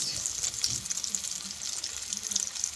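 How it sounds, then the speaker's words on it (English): Cauliflower pieces frying in oil, a steady, fairly soft crackling sizzle with occasional faint taps as they are turned with a fork, heard up close with no speech. "we're going to turn them with a fork because they get brown really fast and they cook really fast"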